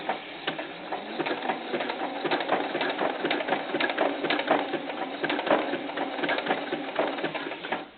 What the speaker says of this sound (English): Let's make sure my machine's all lined up. I'm on my knit stitch.